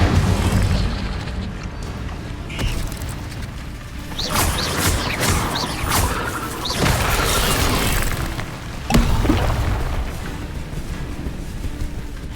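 Spell-casting blasts and explosions in a Hogwarts video game, repeated booming bursts and crackling magical whooshes with mechanical clatter, loud and continuous.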